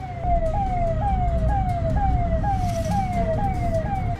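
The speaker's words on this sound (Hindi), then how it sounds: "पीछे से सायरन वाली गाड़ी की आवाज आ रही है।" An emergency vehicle siren wails in a steady repeating rising sweep, loud and close, chasing a speeding tractor trolley down a road, with road and engine rumble underneath.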